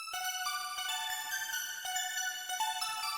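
Synth pluck from a remix plays a bright, tonal melody of short plucked notes with shimmering harmonics and effects tails, steady and alone with no voices.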